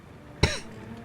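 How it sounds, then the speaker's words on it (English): A single short, sharp cough from a woman, close and fairly loud, in the adventure game Call of the Sea, over a quiet background. "I've had a bit of a cough lately"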